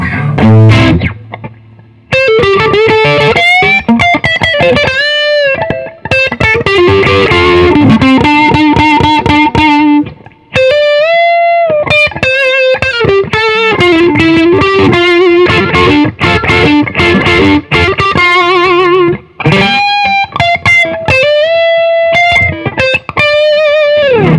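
An electric guitar with a humbucker pickup plays a lively cover-style passage through heavy distortion and reverb, with sustained bent notes and fast runs, loud and alone for the whole stretch.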